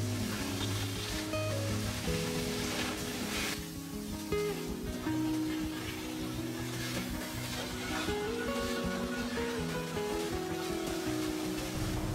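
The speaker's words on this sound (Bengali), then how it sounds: "এবার ভেজে রাখা মাছের কাঁটাগুলো দিয়ে দেব আর মশলার সাথে ভালো করে কষিয়ে নেব" Fried vetki fish bones sautéing with spices in a pan for a Bengali chorchori, with a continuous moderate sizzle under steady background music, and no voices.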